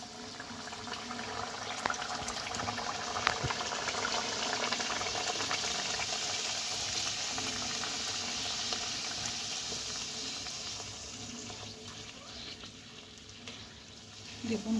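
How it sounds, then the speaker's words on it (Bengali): Pea-stuffed kochuri puris frying in hot oil in a wok, giving a steady, fairly soft bubbling sizzle that holds evenly throughout, with faint clicks and no voices. "দেখুন কড়াতে তেলটা গরম হয়ে গেছে। এই অবস্থায় আমি কচুরিগুলো ধীরে ধীরে ছেড়ে দেব।"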